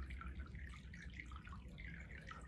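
Water flows quietly and continuously in a church baptismal font at the back of a sanctuary, a faint, steady trickle with no voices over it.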